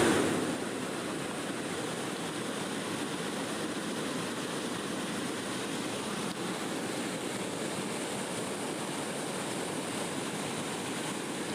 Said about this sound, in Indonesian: Mungkin kita akan terganggu oleh suara arus sungai ini